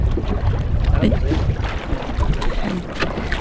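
A large rowed boat moves through choppy water with sloshing waves and strong wind buffeting the microphone, with a faint voice now and then.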